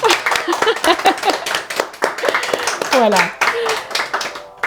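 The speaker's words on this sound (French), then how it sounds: "Vous pouvez vous applaudir" A studio audience at a French book-club show claps under a speaker's talk, a run of close, distinct hand claps that thins out as the voice continues.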